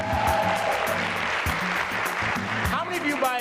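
A seminar audience cheers and applauds, a broad wash of clapping and whoops under a loud voice speaking over the crowd noise.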